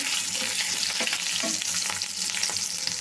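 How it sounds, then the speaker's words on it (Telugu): Mustard seeds splutter in hot oil for a tempering, a dense crackling sizzle with quick popping bursts, heard close up and alone. "ఆవాల తాలింపు చిటపట్లాడాలి"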